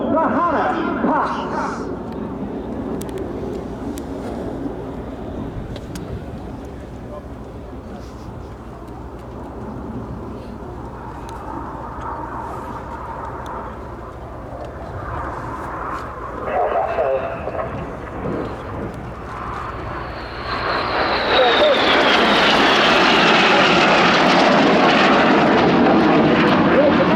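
Red Arrows jets in a high-speed Hannah Pass at an airshow, a loud broadband roar swelling near the end as the aircraft sweep past, with a commentator talking over the engine noise throughout.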